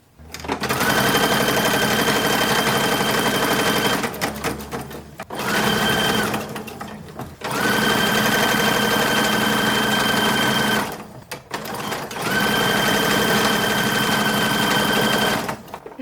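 Sewing machine stitching patches onto the sides of caps for a 1940s WWII uniform, running in four long, steady buzzing bursts separated by brief pauses, loud and close.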